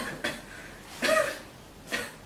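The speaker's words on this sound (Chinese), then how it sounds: "你怎么咳嗽呀？" A girl gives three short, soft coughs spaced out over about two seconds in a quiet indoor room, faint and close.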